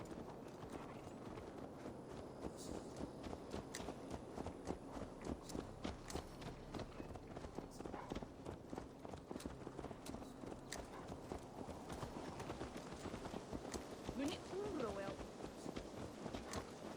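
Horse hooves clip-clop in a steady trotting rhythm in the video game Assassin's Creed Valhalla, close and continuous, with voices talking over them.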